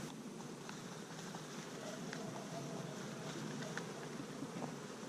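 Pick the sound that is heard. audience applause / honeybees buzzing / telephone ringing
honeybees buzzing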